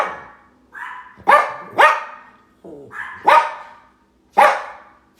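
Dogs barking indoors, a run of sharp close barks in uneven pairs with short gaps between them.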